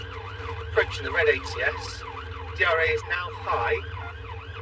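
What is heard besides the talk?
police car siren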